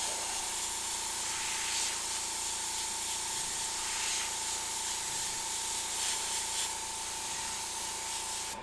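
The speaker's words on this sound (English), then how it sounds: "I'm just keeping the spray kind of away from the gold and just hitting the edges." An airbrush sprays paint onto a gold-leafed leprechaun skull, a close, steady hiss held almost without break, with faint soft pulses as the spray is moved.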